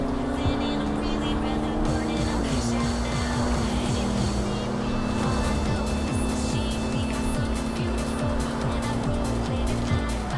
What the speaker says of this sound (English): There's the burnout that I was talking about earlier.